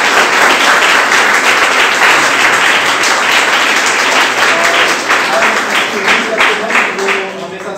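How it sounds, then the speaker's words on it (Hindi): Loud sustained applause from a lecture audience at a training institute, dense clapping filling the whole stretch and easing slightly toward the end, with a faint voice underneath. "यहां आए और जोरदार तालियों से उनका।"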